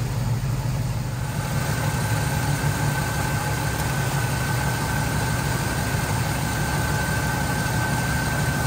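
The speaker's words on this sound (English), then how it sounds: "As you can see, the compressor is spinning up." A 1968 Chevrolet Camaro RS idles steadily with its AC compressor engaged, a constant close-up engine drone with a faint steady whine running throughout.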